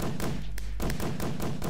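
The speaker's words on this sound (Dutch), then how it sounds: "Oh, dat zijn gewoon vuurpijlen." Firework rockets explode in Minecraft as a rapid run of dull thumps and thuds, about six or seven in quick succession, fairly close and fairly loud.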